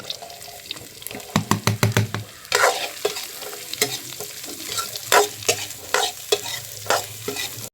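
Beetroot and carrot hit hot oil with dried red chillies in a pan and are stir-fried, a burst of sizzling with quick clanks, then continued crackle and scraping stirs close by, without speech.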